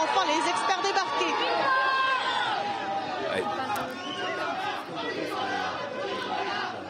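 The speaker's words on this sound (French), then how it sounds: "Je ne sais pas si vous entendez les cris là parmi la foule." An excited crowd greeting the French handball team on arrival at Roissy airport shouts and cheers in a dense roar, loud and near throughout, with voices talking over it.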